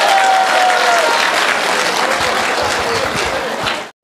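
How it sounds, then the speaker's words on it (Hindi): Loud, sustained audience applause welcoming a guest on stage at a mass interaction program in Arunachal Pradesh, a dense wall of clapping that fades and cuts off abruptly at the end. "जोरदार तालियां हो जाए।"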